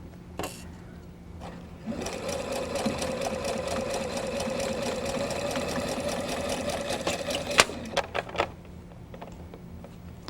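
Sewing machine stitching fabric for a miniature pineapple log cabin quilt block runs steadily for several seconds with a fast, even mechanical chatter, close and clear, then stops with a few short clicks.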